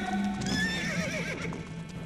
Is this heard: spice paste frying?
no